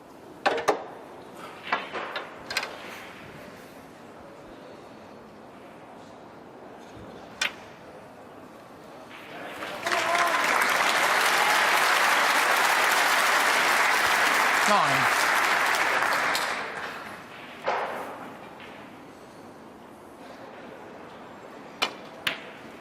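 At the 2016 Northern Ireland Open, a snooker crowd breaks into warm, sustained applause for Jimmy White against Ronnie O'Sullivan, lasting several seconds between sharp ball clicks and a commentator talking quietly.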